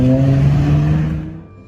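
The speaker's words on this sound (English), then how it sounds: "listen to that engine" Close, loud car engine note with a strong low rumbling hum that holds steady, then fades away quickly as the vehicle moves off.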